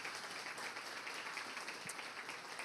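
Faint, distant applause from a church congregation, a steady patter of many hands clapping together at low volume.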